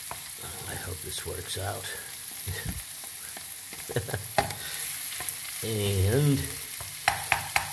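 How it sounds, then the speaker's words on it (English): Onions and loose sausage sizzle steadily in a frying pan for an Umbrian-Calabrian cream sauce, with occasional stirring scrapes and a brief spoken remark over the crackle. "all my onion family is kind of sizzling along"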